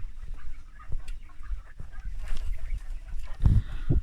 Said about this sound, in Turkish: Bıldırcınlarımız da orada.